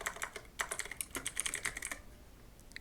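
Rapid, close keyboard typing on a computer, a steady patter of light key clicks for about two seconds before stopping.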